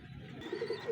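Pigeons kept in a box coo close by in a short burst of soft, rising murmured calls with no talking.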